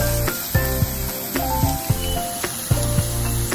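Boiled yam frying with mustard seeds and curry leaves gives a close, continuous sizzle punctuated by sharp pops and spatters at irregular intervals, with no one speaking.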